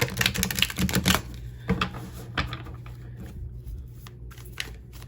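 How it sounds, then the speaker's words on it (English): A deck of tarot cards is riffled and shuffled in a quick rustling burst, then quieter scattered slides and flicks follow in a still room. "then we will shuffle your cards."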